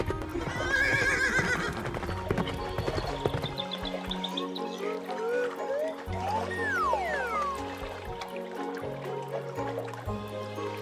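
A cartoon horse whinnies loudly near the start, followed by clip-clopping hooves and playful sliding tones over a low musical backing.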